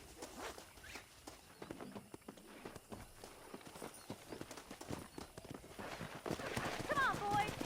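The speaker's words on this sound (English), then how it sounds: "Let's see if we can't wrangle some horses." Horses moving at pace in the Red Dead Redemption video game, rhythmic hoofbeats clip-clopping along, fairly faint and mixed with ambient game sound and some voices.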